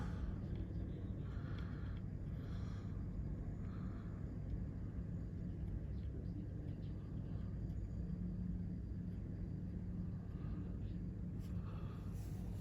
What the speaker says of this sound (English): Korean airplane has just come in.